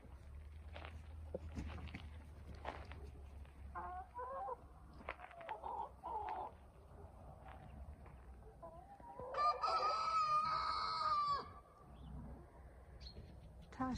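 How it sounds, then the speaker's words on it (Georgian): A handsome young rooster crows once, loud and close, from a backyard flock. Softer clucks and scattered farmyard noises come before the crow. "ლამაზი მამალი გამოვიდა ეს"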